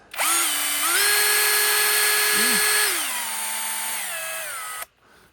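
A Stromo SA-18BL cordless screwdriver whirs up with a high motor whine, holds speed, then winds down in steps before cutting off.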